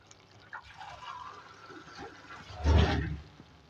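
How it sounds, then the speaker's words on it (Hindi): Water poured from a glass into a pan of fried liver and potatoes, a brief splashing gush near the end after a few faint kitchen clinks, close and fairly quiet. "इसमें पानी डालेंगे ताकि अच्छे से जो हमारे आलू पूरी कम्प्लीटली गल जाए।"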